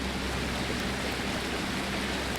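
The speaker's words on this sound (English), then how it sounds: "Sound of the water. Water is crystal clear." Clear stream water flowing steadily nearby at an outdoor camp, a continuous broad rushing wash with no breaks or voices.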